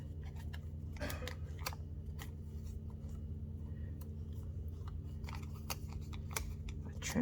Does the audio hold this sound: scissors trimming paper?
yes